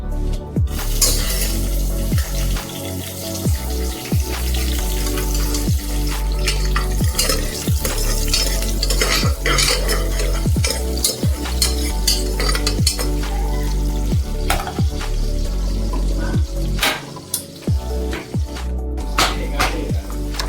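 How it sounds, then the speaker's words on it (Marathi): Pulao being fried and stirred in a pot with bay leaf, whole spices and cumin: continuous close sizzling with a steady run of scraping spoon strokes against the metal, and occasional clinks. "मी बनवत आहे आता पुलाव. ह्याच्यामध्ये मी टाकलं तेजपत्ता, खडे मसाले, जिरा"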